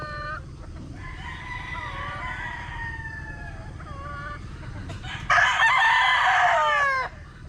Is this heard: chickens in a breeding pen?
yes